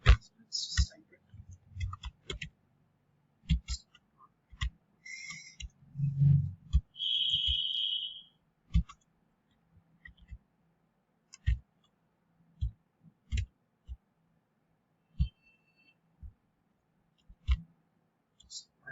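Keyboard keys clicking in short irregular bursts while Java code for a parenthesis-matching problem is typed, close and moderately quiet, with a voice speaking briefly partway through.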